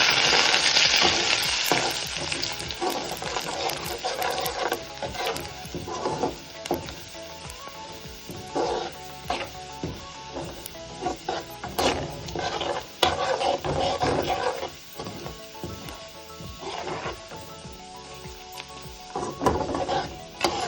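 Hot oil sizzles and crackles steadily as potatoes fry, with occasional stirring clatter from a pan, no voices.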